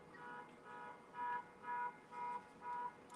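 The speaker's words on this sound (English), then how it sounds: "That car alarm, honestly," A car alarm sounds outside in a repeating pattern of four evenly spaced electronic tones, faint and distant beneath a quiet indoor room.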